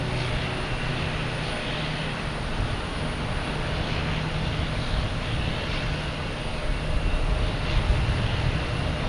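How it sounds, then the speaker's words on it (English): A PAL Airlines airliner passes at Boston Logan Airport, its engine roar a steady, fairly loud broadband rumble holding throughout with no talk. "Now we got PAL Airlines passing in review in front of us."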